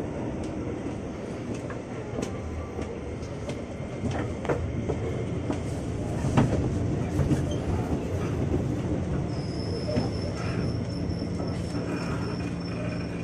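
A KRL commuter line electric train pulls out of Depok station, a steady loud rumble of wheels and rail with squeals and clicks, while another commuter train stands at a nearby platform.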